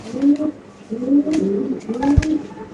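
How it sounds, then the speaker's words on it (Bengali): A female double-ring pigeon at a pigeon farm coos in three rolling, repeated phrases close by, with a faint thump between them. "মাশাআল্লাহ খুবই সুন্দর একটা মাদি কবুতর"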